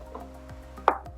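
A knife slices through an avocado with a few soft, close taps against the board, the sharpest one near the end, over a faint steady hum.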